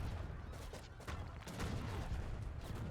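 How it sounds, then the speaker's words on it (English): Massed hand mortars firing on walls in Age of Empires III, a faint, muffled spread of overlapping blasts and rumbling impacts continuing steadily in the distance. "See a huge hand mortar mass, which is actually taking down these walls"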